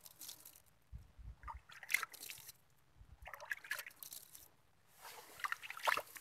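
Water poured from a bucket splashes onto small plant seedlings in a nursery bed, coming in a few separate soft bursts of sloshing and trickling with quiet gaps between.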